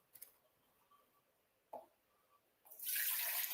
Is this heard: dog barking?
no